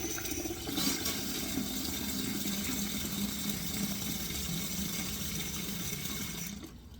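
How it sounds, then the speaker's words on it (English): Tap water runs steadily into a measuring cup while a pressure canner is being prepared, a continuous close splashing stream that cuts off near the end. "I just fill the measuring cup up now"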